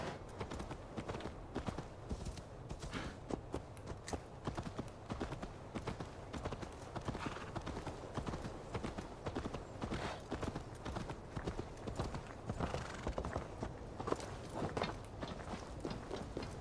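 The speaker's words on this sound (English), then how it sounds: "Why is the horse so slow?" A horse in Assassin's Creed Valhalla walks with a steady, continuous clip-clop of hooves, moderately loud and unbroken throughout, with no talking over it.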